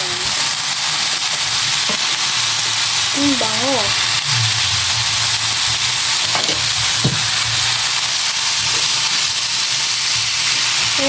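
Sliced sayote (chayote) sizzles and fries in a pan, with the hiss of hot oil holding steady and loud the whole time, broken by occasional stirring clatters, while someone talks over the cooking.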